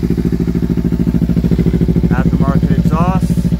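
A Kawasaki Ninja 300 motorcycle with an aftermarket exhaust idles close by, giving a loud, rapid, even engine pulse that carries through the whole clip, while someone talks briefly over it near the end.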